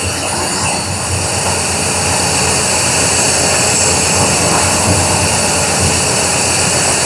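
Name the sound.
electric fuel pump running on 1973 Camaro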